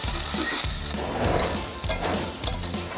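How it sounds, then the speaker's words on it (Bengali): Chopped beans and vegetables stir-fried together in a pan for a vegetable moong dal, with a steady hiss of frying and scraping stirs, a few sharper clinks of the spatula, close and alone. "এবারে আমি সমস্ত কিছু একসঙ্গে ভালো করে ফ্রাই করে নেব।"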